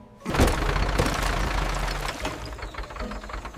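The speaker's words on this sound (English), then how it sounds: "That's the sound of another broken tractor." A broken tractor engine on a 1928 Amazon jungle plantation knocks and rattles roughly, loud and close, in a continuous uneven chug with no voices.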